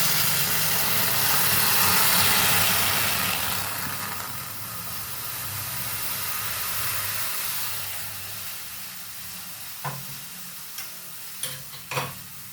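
Hot water is poured into a pot of fish head dal, giving a loud rushing hiss and sizzle that slowly fades, followed by a few faint clinks and stirring taps.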